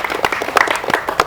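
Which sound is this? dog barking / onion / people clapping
people clapping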